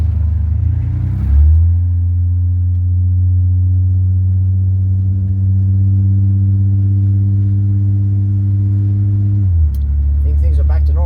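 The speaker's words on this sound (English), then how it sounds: "Now time to put everything back together and go for a test drive." A 1990 Eagle Premier sedan on a test drive, its engine settling into a steady, loud, even drone that holds for several seconds, with brief shifts in pitch at the start and end.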